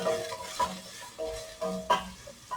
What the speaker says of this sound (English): as my onion is getting sauté